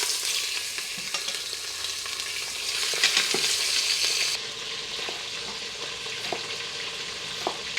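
Chicken pieces brown in an Instant Pot, sizzling continuously with scattered stirring clicks and scrapes, moderately close with no talking.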